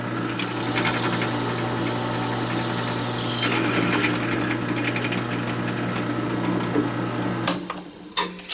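Drill boring holes through the tang of a fillet knife, a steady high motor whine with grinding, holding loud and close for several seconds before winding down amid a few sharp knocks.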